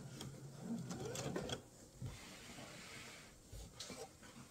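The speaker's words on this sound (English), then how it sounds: "I'm going to sew up to the bottom of my strap." Sewing machine stitching the strap of a mesh tote, a quiet close mechanical whir and rattle in short bursts with brief pauses between them.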